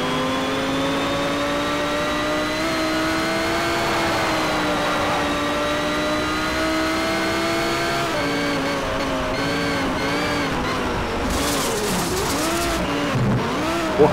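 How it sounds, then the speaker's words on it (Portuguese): Racing car engine in Need for Speed Shift 2 drones loudly and steadily, revving up and down with wavering pitch as the car slides around a circuit, tire scrub and engine whine continuous throughout. "Tentando entender por que o carro tá derrapando."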